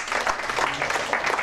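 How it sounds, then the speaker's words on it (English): A classroom audience applauding two students, a dense burst of many hands clapping together indoors, loud and steady for a moment. "Clap for them."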